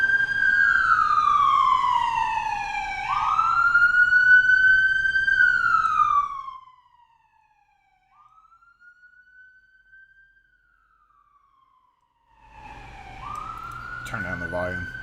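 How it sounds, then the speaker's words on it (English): A loud wailing siren rises and falls, cuts away to a faint distant wail, then returns loud and close, with a voice briefly heard over it. "drink when I hear a siren,"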